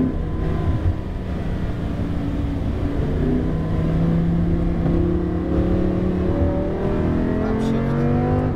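A car engine drones loudly and steadily under throttle in a driving game, pitch climbing gradually as it accelerates, with a dense continuous roar throughout.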